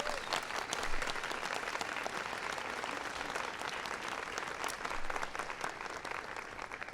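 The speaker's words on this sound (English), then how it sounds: "please give them a big round of applause as well" Audience clapping for school principals at a National Teacher of the Year ceremony, a sustained, dense round of applause at steady volume for the full stretch, with no talk on top.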